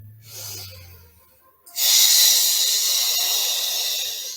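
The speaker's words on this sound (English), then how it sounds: "Yes, you can hear me breathing." Forceful exhalations hissing out through clenched teeth during a Pilates ab exercise, close and loud, a soft breath first and then a long sustained hiss that fills the rest of the moment, with no talking.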